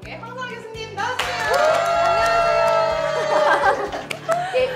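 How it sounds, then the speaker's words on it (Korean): An audience at a science talk show applauds to welcome a physics professor, a broad clapping wash rising after the first second, mixed with bright musical tones and crowd chatter. "자, 큰 박수로 모셔볼게요."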